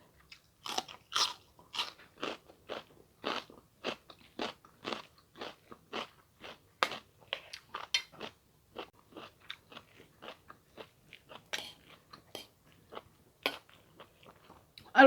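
Someone eats southern Thai fish belly curry with grilled fish and pea eggplants, making a quick, steady run of close, crisp crunching bites and chews with short gaps between them.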